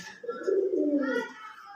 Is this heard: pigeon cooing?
yes